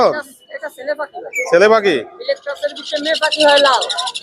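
Several finches, java sparrows, cockatiels and lovebirds chirp and call in bursts, close by, at the Mirpur 13 bird market in Dhaka, mixed with people talking over them.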